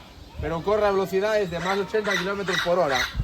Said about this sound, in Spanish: ¿qué pites ni que mi manto? Son ñandú.